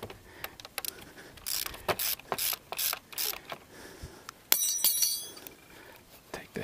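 A 17 mm wrench loosening bolts on a KLX/DRZ 400 motorcycle fork, with a series of close, quick ratcheting clicks and metallic clinks coming in irregular bursts and pauses.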